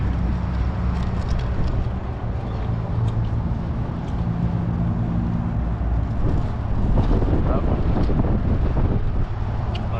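Wind blows steadily at sea, a dense low roar of gusts buffeting the microphone for the whole stretch, with faint rumbling underneath and no clear voices.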